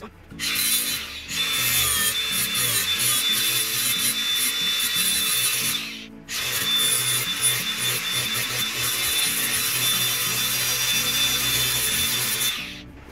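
Wood for a sling slot crossbow is shaped with a power sanding tool, two long loud abrasive grinding passes separated by a brief pause, close and steady.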